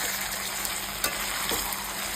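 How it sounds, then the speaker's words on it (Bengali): Chicken liver and stomach masala sizzles and fries steadily in a frying pan, a continuous crackling hiss with a couple of brief stirring scrapes, close and alone without talk. "এবার জল দেবো, অল্প জল দিয়ে সেটাকে কষাবো।"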